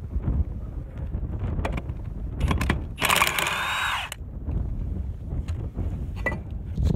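A cordless battery-powered impact tool spins bolts out on an IH Model 10 seed drill, giving one loud, dense burst of about a second against steady outdoor wind and background noise.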